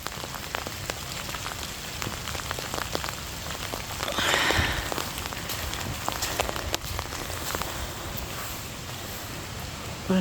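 Steady rain falls outdoors at Lennox Castle in Scotland, a dense broadband patter of drops hitting surfaces, continuous and fairly close, with a brief louder swell partway through and no voices.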